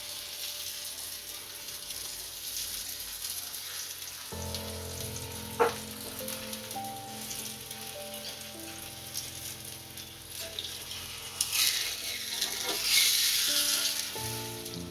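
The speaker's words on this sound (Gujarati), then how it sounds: "અને આપણે બંને બાજુ સારી રીતનું તળ લેશું" A green onion paratha sizzles and crackles in hot oil throughout, close and steady, with occasional stirring scrapes and brief louder bursts near the end.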